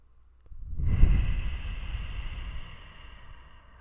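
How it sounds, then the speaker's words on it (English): A single deep breath drawn in and slowly released, close to the microphone, starting with a soft inhale and trailing off into a long airy exhale. "So take a deep breath with me."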